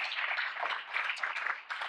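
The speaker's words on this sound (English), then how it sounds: "Give Lori a round of applause as well." An audience at a Duke Forest annual gathering claps for the panel moderator, producing a faint, soft patter of hands that sounds distant and stays fairly even for about two seconds.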